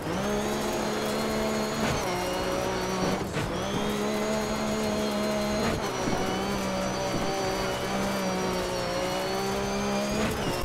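A race car engine in a racing video game, heard from the cockpit view, whines loudly and steadily at high revs, with brief dips at gear changes or lifts repeating every couple of seconds, with no voices.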